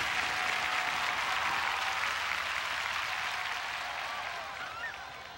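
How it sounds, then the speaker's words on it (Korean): Applause from a live audience at the 1997 MBC College Musicians Festival after a comedian's act, a steady wash of clapping that holds fairly even and then slowly fades toward the end. "김국진 씨의 이 사기에, 이 열기에 다시 한번 큰 박수로서 감사를 드리겠습니다"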